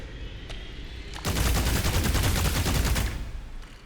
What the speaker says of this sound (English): It's going to shoot.